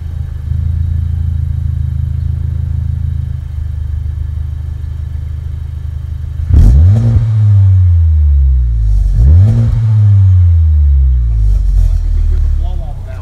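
A tuned 2018 Civic Type R engine idles with a deep rumble, then is revved twice in sharp rising-and-falling sweeps, close and loud, with people talking over the idle.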